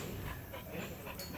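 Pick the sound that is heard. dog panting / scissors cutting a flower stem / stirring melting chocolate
dog panting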